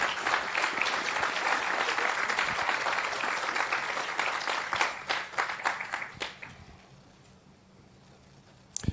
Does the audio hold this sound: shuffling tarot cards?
no